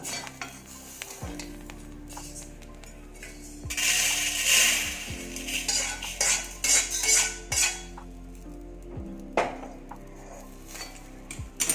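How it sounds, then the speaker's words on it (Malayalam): A spoon or spatula scrapes roasted rice out of a pan into a vessel, with repeated metallic scrapes and clanks against cookware that come in bursts. Faint sizzling carries on between the strokes. "ഇനി അത് തീ ചെറുതാക്കി വെച്ചിട്ട് ഒരു പാത്രത്തിലേക്ക് ഞാൻ മാറ്റുകയാണ്."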